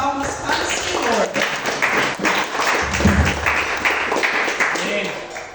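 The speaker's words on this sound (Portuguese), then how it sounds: "Vamos receber a serva de Deus com uma salva de palmas para o Senhor." A church congregation at a praise and worship service claps to welcome a deaconess, steady dense applause lasting throughout, with voices and speech mixed in underneath.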